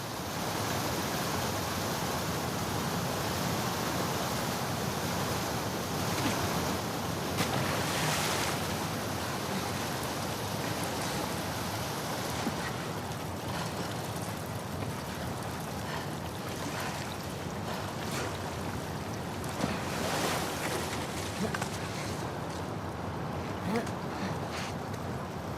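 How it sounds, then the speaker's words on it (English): A fast-flowing torrent of sewer water rushes in The Last of Us Part II, a dense, steady roar of churning water that holds for the full length with no break. "the player was faced with a fast-flowing torrent of water they couldn't cross"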